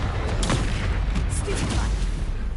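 A Confringo fire spell bursts during a troll battle in the Hogwarts Legacy video game, giving a dense, rumbling blast with scattered booming impacts over a continuous roar, with voices shouting partly under it.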